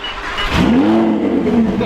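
A 600 horsepower Lamborghini Huracan fitted with a Ryft exhaust revs loud and close, its engine tone rising and holding steady for about a second before easing slightly.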